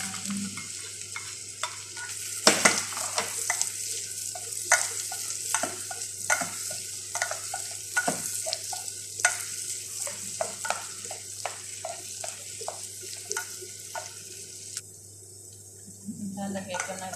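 Garlic and onion sizzle in a pan as a spoon repeatedly stirs and scrapes against the metal, with the clatter recurring in a steady rhythm over a continuous frying hiss.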